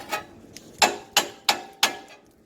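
A hammer drives a front strut into place on a Lexus GX470: a light tap, then four sharp, close blows in a steady rhythm.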